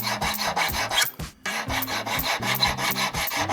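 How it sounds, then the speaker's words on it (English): A hand file rasps steadily back and forth against the inside of a metal wedding band, each stroke a dry scraping rub with a brief pause in the middle, close and alone. "for when I'm filing the inside, because that essentially take a bit of metal away"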